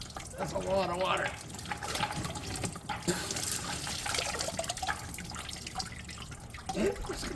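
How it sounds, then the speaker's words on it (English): Water gushes and splashes out of a McCormick W6 tractor under restoration, a steady close pouring and spattering with voices talking over it. "That's a lot of water."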